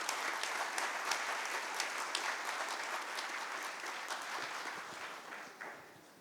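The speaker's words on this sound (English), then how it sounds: "A big round of applause, please." Audience at an AstroSat conference inaugural session applauds steadily, a dense wash of many hands clapping that holds at an even level for several seconds and thins slightly at the end.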